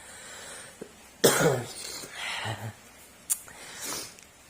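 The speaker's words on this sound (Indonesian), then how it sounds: "Maaf terjadi ada batuknya" A couple of sharp, close coughs with some throat noise between them, in an otherwise quiet room.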